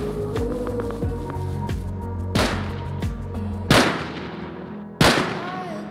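Several bolt-action rifle shots ring out in the survival game Rust, four sharp cracks spaced a second or more apart over a steady ambient bed, with ringing tails and one softer report at the start.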